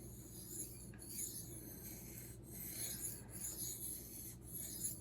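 A knife rubs across a Thleite Splash budget waterstone in repeated strokes, alternating sides to raise an even burr, a soft, faint gritty scraping with gentle rhythmic swells and no talking.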